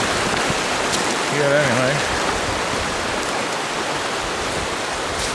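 A mountain creek in Kananaskis rushes steadily in a broad, continuous wash of water noise, loud and close, with a brief spoken remark over it.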